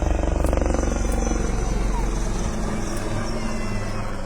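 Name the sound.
attack helicopter flying combat maneuvers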